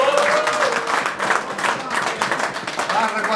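Lively applause and scattered claps at a 40th-anniversary diploma reunion dinner, steady crowd clapping mixed with voices calling out over it.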